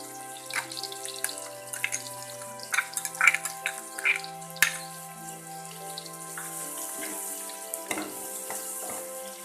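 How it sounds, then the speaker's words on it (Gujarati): Onion drops into hot oil where stuffed gunda has been cooking, producing scattered crackles and pops over a quiet background, with a few sharp clinks and a low faint hum. "જે ગુંદાને પાંચથી સાત મિનિટ માટે તેલમાં ચડવા દીધેલા છે હવે તેમાં આપણે ડુંગળી નાખીશું"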